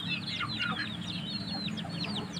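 Burmese and Thai crossbred chickens on a farm in Cianjur, West Java, clucking and chirping in quick overlapping calls over a steady low background hum.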